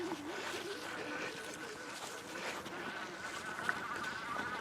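A Wallke H9 dual-motor e-bike climbs a hill on its front motor alone, giving a steady, moderately loud electric whine over wind and rolling noise, with no talk.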